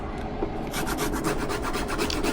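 Fresh ginger being grated on a metal grater for homemade curry, giving a steady run of close, rhythmic rasping strokes that speed up after a short quieter start.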